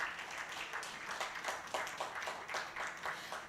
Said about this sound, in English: So let's clap to that.